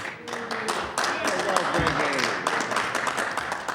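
Assembly members applauding in a legislative chamber, scattered light clapping and desk taps mixed with overlapping voices and speech throughout.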